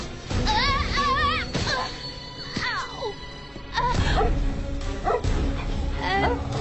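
A dog barks and yips repeatedly, with whining, whimpering cries between the barks, close and loud throughout.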